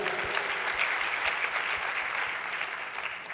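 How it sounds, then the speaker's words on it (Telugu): Congregation clapping at a church service, a dense, steady wash of applause held at an even level throughout with no voices standing out. "యేసుక్రీస్తుకి చప్పట్లు కొడదాం."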